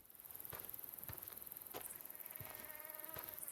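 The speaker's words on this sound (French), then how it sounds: "Ah, il y a un petit moustique." A small mosquito in the video game Days Gone gives a faint, steady high-pitched whine, broken by a few soft thumps and clicks, with no talking.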